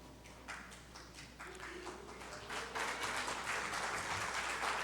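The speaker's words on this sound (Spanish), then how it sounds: "denle más fuerte ese aplauso a nuestro Dios" A church congregation claps together in applause, a dense and steady patter that builds gradually and grows louder toward the end, with no voices standing out over it.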